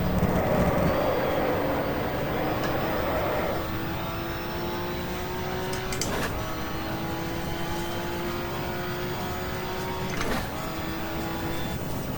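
A touring car from the 1987 British Touring Car Championship at Oulton Park downshifts to third gear, its engine note shifting partway through and then holding a steady, loud race-engine drone with no speech.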